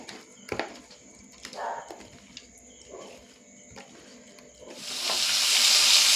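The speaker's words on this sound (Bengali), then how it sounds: "আর বাকি মাছগুলোকে কিন্তু আমি ভেজে নিই।" Fish rubbed with salt and turmeric, for a spicy shankar fish curry, hisses in hot oil, with light clinks and stirring early on before a loud, close sizzle swells and holds through the end.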